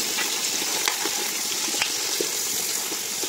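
Potatoes fry in a pan of hot oil as the first step of a pork pochero, giving a steady close sizzling hiss with scattered crackles and pops throughout.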